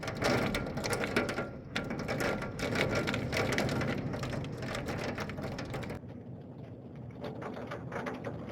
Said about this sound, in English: Okay, back here we can see that there is hail.